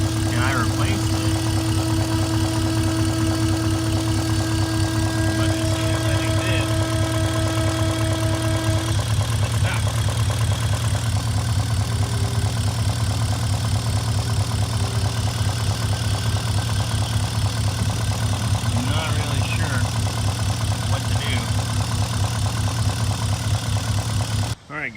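A BMW E39 engine, fresh from CCV and diaphragm replacement, idling close by as a steady low hum with a constant tonal drone, falling back after being revved to about 3,000 rpm, with a voice speaking over it.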